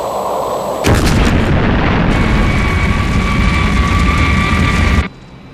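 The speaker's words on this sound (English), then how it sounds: "Clayton, missiles 5 and 6, destroy them." Missiles launch at a Thunderbird aircraft of International Rescue over New York City, a sudden loud blast followed by a sustained roaring rush of rocket and explosion noise that cuts off abruptly after about four seconds.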